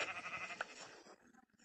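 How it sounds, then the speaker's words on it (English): A sheep in the Minecraft video game gives a faint, short bleat that wavers before fading into quiet. "I found sheep."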